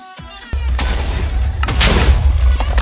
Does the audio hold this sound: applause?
no